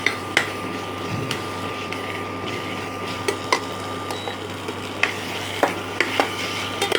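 Boiled vegetables for paneer cutlets fry in a pan under a steady low sizzle, with sharp scattered clanks of a utensil against the metal.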